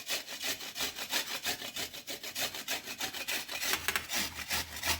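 Indian gooseberries (amla) being grated on a hand grater, a steady run of close rasping back-and-forth strokes with no talk.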